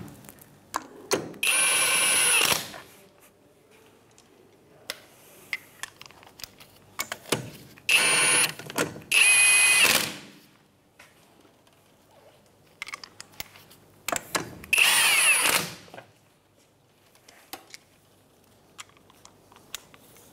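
A power tool with a 17 millimeter socket runs lug nuts onto a Mitsubishi Outlander wheel in three loud, close whirring bursts separated by pauses with faint clicks and handling noise.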